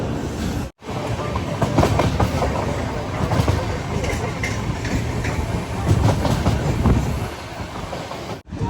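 A passenger train pulling into Tambaram station near Chennai, loud and close, with continuous rumbling and rhythmic wheel clatter throughout, faint voices mixed in the crowd noise.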